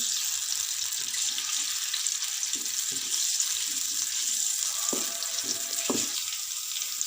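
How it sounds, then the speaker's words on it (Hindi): A teaspoon of garlic-ginger paste sizzles and fries in hot oil for a chicken, potato and capsicum dish, with a steady close hiss and a few soft stirring knocks. "1 टीस्पून लहसुन अदरक का पेस्ट मैंने ऐड कर दिया है, इसे भून लेते हैं।"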